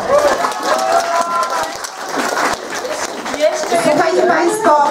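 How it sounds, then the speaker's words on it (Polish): Seniors from a day-care centre applaud at an Oktoberfest party in a hall, a lively crowd clapping amid chatter and raised voices, with cheerful talk close by. "Brawa!"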